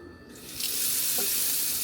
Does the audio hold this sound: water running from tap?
yes